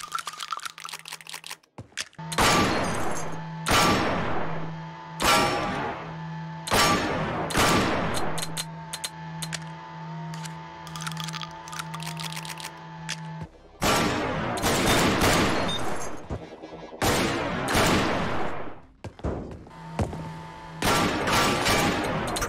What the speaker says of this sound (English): Oh my goodness, a revolver shotgun? It's freaking loud.